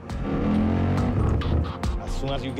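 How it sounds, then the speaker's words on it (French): A 1969 Camaro Z/28 under restoration drives with a rumbling engine, with a suspected rubbing against the bodywork at the rear. The engine drones steadily with sharp intermittent scrapes and squeals on top. "Le bruit qui venait de l'arrière de la voiture laissait croire que quelque chose frottait contre la carrosserie."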